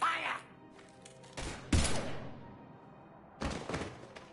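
Sci-fi gunfire from Mass Effect, with several sharp broadband bursts and thuds spaced across a few seconds at close range, including one especially loud blast, along with faint game voices in the background.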